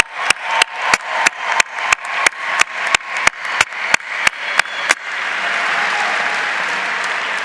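Loud, evenly spaced claps come first, then they merge into broad, sustained audience applause for graduates at a winter commencement ceremony, rolling on to the end.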